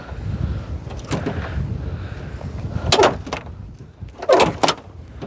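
A door on an abandoned property is pushed shut, giving two loud knocking thumps with rattling near the end, over a rumbling outdoor background.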